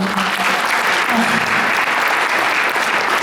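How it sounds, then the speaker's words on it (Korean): Audience applause at a Melaleuca Korea convention awards ceremony, a dense, steady wash of clapping filling the hall throughout, with a voice briefly audible beneath it. "박수 부탁드리겠습니다"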